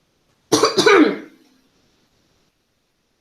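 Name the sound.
cough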